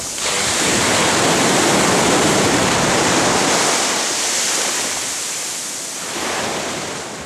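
Sea waves break and wash up on Cleopatra Beach in Turkey on a February midday, a loud roaring surge that peaks early, fades slowly and swells again briefly near the end, with no voices.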